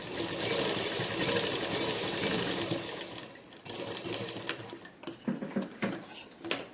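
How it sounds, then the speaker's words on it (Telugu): A sewing machine stitches a Punjabi dress, its rapid mechanical whir running steadily at first and then breaking into shorter start-stop bursts near the end, close and alone. "ఇలా దీనికి కొంచెం ఇక్కడ గ్యాప్ ఇచ్చేసి మళ్ళీ ఇక్కడ నుంచి కుట్టు స్టార్ట్ చేసుకోవాలి మనం"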